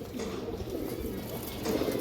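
A female Sobji pigeon gives a short, soft, throaty coo nearby, rising slightly at the end, with no talking over it.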